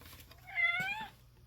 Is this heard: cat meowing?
yes